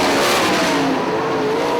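IRA sprint cars race at Hartford Speedway Park, with a loud, continuous high-revving engine roar close by as a car works through lap traffic down the front stretch, its pitch shifting slightly as it passes.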